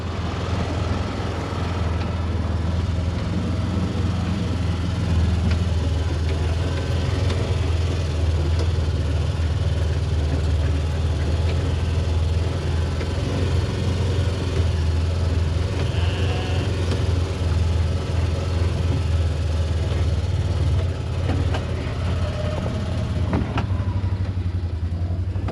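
A vehicle engine hums steadily at close range while driving slowly through a herd of grazing cattle, a constant low drone with rumbling road noise and no talk.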